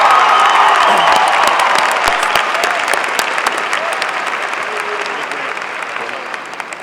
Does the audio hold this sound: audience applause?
yes